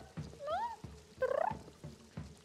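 A pet cat making chirping, bird-like trills, with two rising warbling calls standing out clearly over soft thumps and low background noise.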